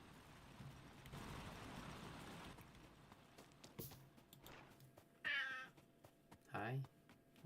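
A house cat gives two clear, whiny meows in a quiet room, close and fairly loud, following a stretch of soft background noise.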